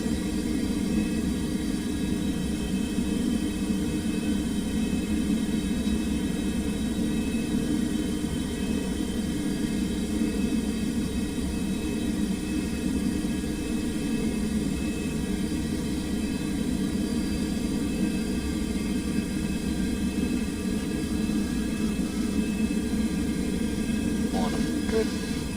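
A steady, loud airliner cockpit drone with engine rumble and broadband hiss holds throughout a landing approach, unbroken and constant, with a few faint tones near the end.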